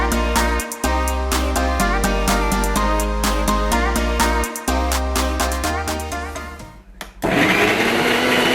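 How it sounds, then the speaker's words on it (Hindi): A kitchen grinder blends boiled chickpeas into a thick hummus paste, its motor running loud and steady with a whining, pulsing tone that briefly dips and then surges into a coarser, rougher roar near the end. "ग्राइंडर हमने ले लिया, इसके अंदर हम इन्हें डालेंगे और एक थिक पेस्ट बनाएंगे"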